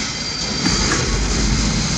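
A train in the 1968 Western film Once Upon a Time in the West runs with a constant loud rumble and rattling wheel noise, steady and close for the whole two seconds, without speech.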